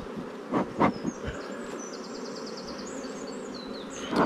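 Bees buzz faintly and steadily around a hive being smoked outdoors, a thin continuous drone with a few louder close passes near the start and end.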